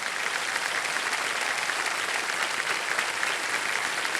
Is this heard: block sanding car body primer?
no